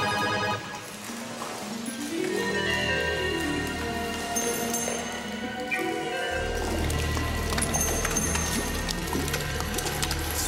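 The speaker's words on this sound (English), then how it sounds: "It's raining hard." Hard rain heard as a steady hiss and patter with drips, beneath a swelling eerie musical score that thickens with a low drone partway through, no voices.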